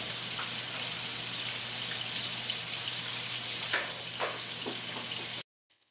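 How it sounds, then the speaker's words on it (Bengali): Rohu fish pieces fry in oil in a pan over low heat, giving a soft, even sizzling hiss with a few faint pops. It continues steadily, then cuts off abruptly near the end. "এই রুই মাছটাকে ভেজে নেওয়া হবে। ভালো করে লো হিটের মধ্যে ভেজে নিতে হবে এটাকে।"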